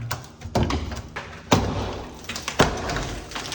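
A damaged bathroom door being wrenched out of its rotted frame: a run of heavy thumps and knocks, with sharp wooden bangs standing out, close and loud.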